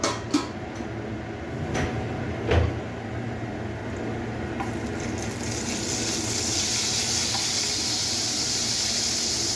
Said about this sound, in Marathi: जिरे चांगले फुलून घेऊया.